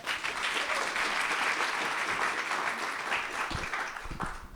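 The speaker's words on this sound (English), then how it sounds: "Please, a round of applause for Silvan Slypan." Conference audience at an offshore wind startup showdown applauds a speaker, dense continuous clapping that holds steady and then thins toward the end.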